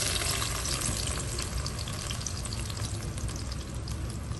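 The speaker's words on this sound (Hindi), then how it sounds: "अब प्याज को जो है अच्छे से हमने भून लेना है।" Steady, loud sizzling of chopped onion frying in hot oil in a wok, continuous throughout with no talking.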